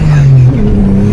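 A turbocharged Acura TL-S sits close and loud at idle, its engine drone stepping up in pitch as it starts to accelerate hard.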